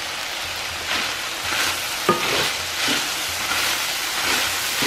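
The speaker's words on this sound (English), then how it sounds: "And then now we're gonna stir this up." A peppered dish is stirred in a hot pan, with steady loud sizzling and hissing and a few spatula scrapes and clacks breaking through.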